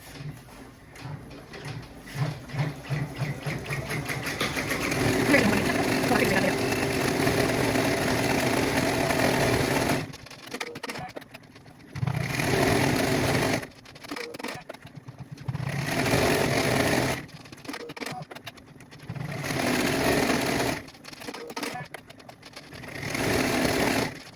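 An embroidery machine stitches the interior of a soccer ball coaster in the hoop, a loud steady mechanical hum that runs in long bursts broken by several short pauses.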